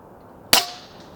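A single sharp .25 caliber shot from an Umarex Zelos air rifle on an outdoor range, a loud crack with a short fading tail in otherwise quiet air.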